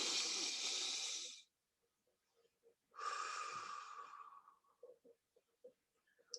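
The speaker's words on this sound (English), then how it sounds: "Let's take a nice deep breath." A deep breath drawn in, then let out in a long audible exhale, each lasting over a second. It is close and breathy, followed by quiet with faint small sounds.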